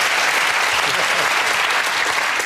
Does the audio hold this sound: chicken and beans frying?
no